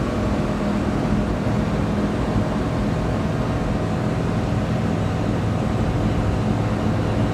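A non-turbo Suzuki Carry mini truck engine droning steadily at full throttle in fifth gear, a loud continuous low hum with road and wind roar, no talking.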